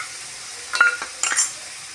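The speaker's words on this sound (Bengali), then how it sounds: "সবগুলো এবার খুব ভালো করে ভাজা ভাজা করে নেবো।" Egg curry masala with ground tomato paste fries in a pan, giving two short bursts of sizzling and stirring against a quiet background.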